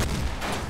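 Ship weapons fire in the steampunk video game Ironcast as a dense, booming burst of cannon-like blasts. It is loud and continuous for under a second, with no speech.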